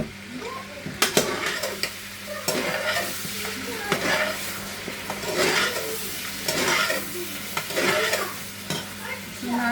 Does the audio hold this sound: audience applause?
no